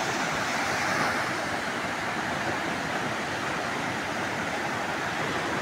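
Sea waves at Guhagar beach as the tide comes in, a steady broad wash of surf rushing without pause, moderately loud and close, with no voices.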